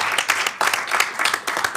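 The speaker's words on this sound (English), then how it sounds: "give her a round of applause" Applause at a city council meeting honoring the interim city manager, a brief burst of clapping from a modest room, arriving in uneven waves over about two seconds.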